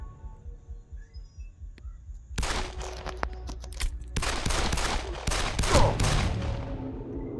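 Rapid bursts of gunfire in the mobile shooter game Fire Gun FPS 3D Shooting, loud and dense, starting after a low pulsing hum and running continuously to the end.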